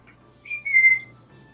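A person whistles in two short rising-and-held tones, trying to call a dragon during a tabletop fantasy role-playing game session, clear and close over a low steady room hum with no talk.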